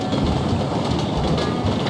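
A train runs steadily in the video game Reksio i Kapitan Nemo, a continuous dense rumble of wheels and carriage noise, close and loud throughout with no pauses.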